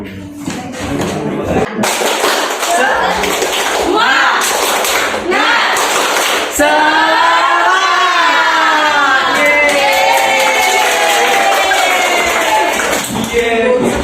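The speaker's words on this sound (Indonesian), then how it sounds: "ayo kita tepuk semangat dulu." A classroom of students stand and perform a rhythmic clapping cheer, sharp grouped claps in a patterned beat mixed with children's chanting voices.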